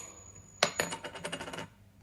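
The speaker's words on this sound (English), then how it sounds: "Flip a coin. Sure." A coin flip sound effect from a Google Home smart speaker plays alone: a sharp metallic ping, then a quick series of ringing clinks as the coin settles.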